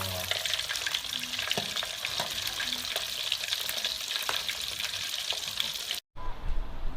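Mackerel frying in a hot pan, a dense, continuous crackling sizzle with scattered pops, close and steady, cutting off briefly near the end before resuming.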